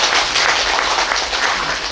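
Audience at a Korean digital writers' association seminar giving a round of applause, a close, loud, continuous wash of clapping for a couple of seconds with no speech.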